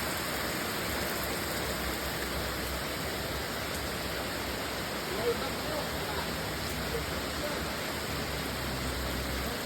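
Heavy rain falls in the early morning hours near the Liloan station, a constant soft broadband hiss that stays even and unbroken throughout.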